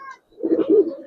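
Racer pigeons cooing inside a loft, a soft low burble rising after a brief pause and continuing in close, rolling bursts, with a faint higher tone at the start.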